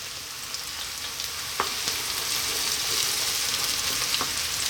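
Garlic frying in hot olive oil in a pan for an Ethiopian lamb potato stew, giving a steady, close crackling sizzle with a few sharp pops throughout.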